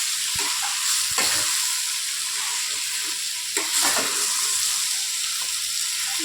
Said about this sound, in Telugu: దాన్ని ఒకసారి 2-3 సార్లు ఇట్లా కలుపుతూ ఉండాలి